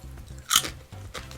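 A crunchy Brazilian cassava chip snack is bitten with one sharp, loud crunch, followed by softer chewing crackles nearby.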